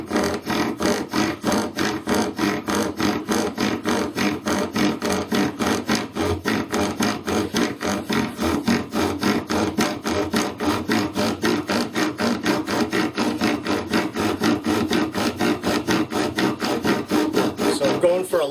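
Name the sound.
vibration of an off-axis spindle turning wood on a lathe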